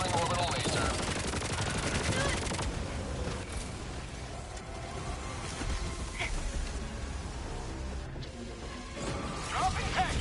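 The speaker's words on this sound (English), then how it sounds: "Firing orbital laser." Helldivers 2 combat with an orbital laser strike and gunfire, a dense, loud, continuous barrage of rapid shots and crashing blasts that runs unbroken throughout and stays harsh and close.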